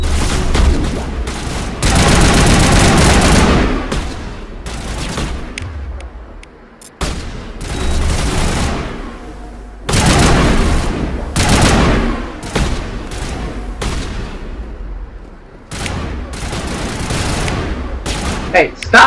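Gunfire in Mass Effect Legendary Edition rattles in loud repeated bursts and volleys separated by short lulls, close and dominant, with speech mixed in.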